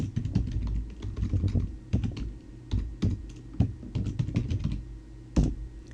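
Keys clatter on a computer keyboard as a folder name is typed, quick close clicks in short bursts with a few louder key strikes between brief pauses, and no talking.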